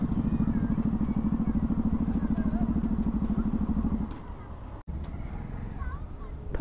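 A Bajaj Pulsar NS 200 motorcycle on a group ride in Nepal gives a steady, pulsing engine drone that fades after about four seconds, then continues more quietly, with voices talking over it.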